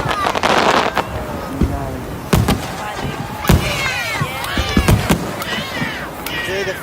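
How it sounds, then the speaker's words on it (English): Fireworks going off at night after a fishing trip, a series of sharp cracks and bangs scattered across the clip with crackling bursts and whistling streaks, loud and fairly close, with voices in the background. "Enjoy the fireworks,"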